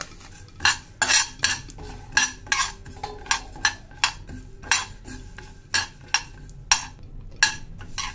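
Fenugreek seeds dry roasting in a kadhai over medium-low gas, with repeated sharp metallic scrapes and clinks of a spoon stirring against the pan at a steady, uneven rhythm, close and clear with no talking.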